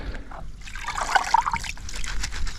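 Water trickles and dribbles off fishing gear just lifted out of a lake during carp and grass carp fishing, a steady close splashy patter that peaks midway and then thins out.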